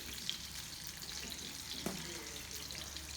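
Tandoori lamb burgers frying in a pan give a steady, quiet sizzle with faint crackles and one brief clatter, and no one speaks.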